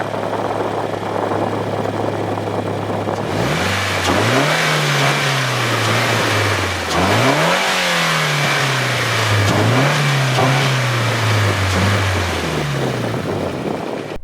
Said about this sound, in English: Now that we've heard how the engine sounds,